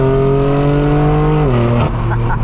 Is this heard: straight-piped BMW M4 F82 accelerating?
yes